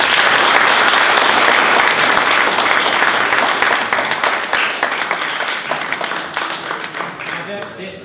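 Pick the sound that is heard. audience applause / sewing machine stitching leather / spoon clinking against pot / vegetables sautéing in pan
audience applause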